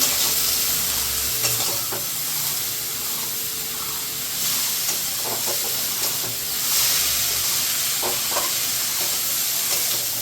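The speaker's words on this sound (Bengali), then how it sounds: "মশলা দিয়ে এটাকে ভেজে নেব।" Shredded cabbage frying with spices in a pan gives off a continuous sizzle and hiss, broken by scattered clinks and scrapes of a spoon stirring nearby, with nobody talking.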